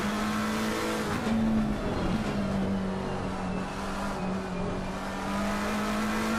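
GT race cars including a Ferrari lapping Brands Hatch, a steady loud engine drone holding a sustained pitch that shifts slightly as cars run close together, with a brief rise around one car passing.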